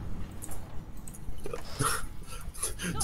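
A dog in the video game Divinity: Original Sin 2 gives short barks and whimpers amid scattered game sounds and background noise.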